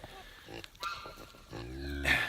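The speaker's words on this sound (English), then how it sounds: "They're Bobby's pigs." Pigs grunt and snuffle close by in a farmyard enclosure, with low rough grunts and one louder squealing oink at the end, alongside faint muffled human talk.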